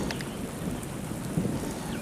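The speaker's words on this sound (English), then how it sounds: "it's still thunder, it's still raining" Steady rain pours down on an outdoor camp at a wet, cold rendezvous in Raton, New Mexico, with a low thunder rumble rolling beneath the dense patter throughout, no voices present.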